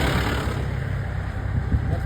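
A KML DJ vehicle's engine running at a festival sound-check gathering, a steady low rumble holding throughout this short stretch.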